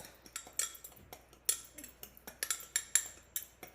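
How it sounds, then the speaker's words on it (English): Homemade sazon seasoning mixed with Himalayan salt in a small container, giving a quick series of light, irregular clinks and scrapes, close and fairly quiet, with no talk. "So now I'm just gonna give it a quick mix."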